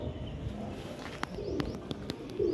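A pigeon coos softly at a rooftop pigeon-flying contest, the low murmuring calls sitting under outdoor background noise with a few brief clicks and no talking.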